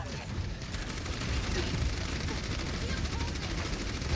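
Rapid, continuous automatic gunfire from the shooter video game Overwatch, loud and sustained for several seconds as a dense rattling stream of shots.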